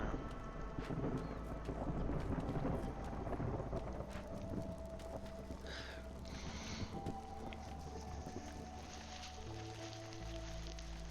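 Stormy weather in the Against the Storm video game, with rumbling thunder, steady rain and wind layered into a continuous loud wash alongside game ambience, no talking.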